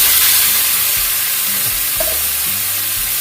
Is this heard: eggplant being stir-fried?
yes